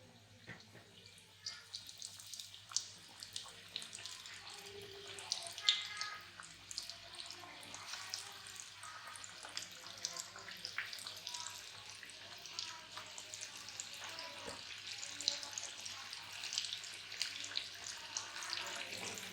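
Flour-coated chicken pieces sizzle in hot ghee in a pan, a steady, fairly quiet hiss and crackle with faint pops lasting throughout, no voices.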